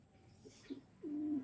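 Breeding stock pigeons in a loft give a short coo, a soft low call and then a sustained throaty coo, close and clear against quiet background.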